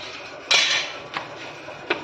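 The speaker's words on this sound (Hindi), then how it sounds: "तोड़ दो बर्तन मेरे, तोड़ दो टिफिन तोड़ दो यार" Steel tiffin box and metal utensils clattering at home: one loud metallic crash followed by two shorter clinks, close and alone without speech.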